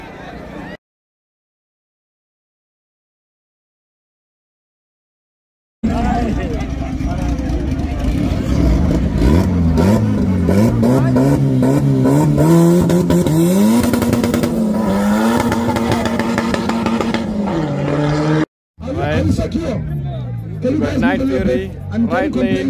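After a silent gap, roaring drag race car engines burst in loudly down the strip, rising in pitch as they accelerate, with excited voices shouting over the din.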